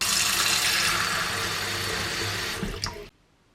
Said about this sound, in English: let's go and get some tap water